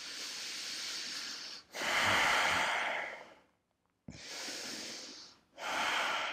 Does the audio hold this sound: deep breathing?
yes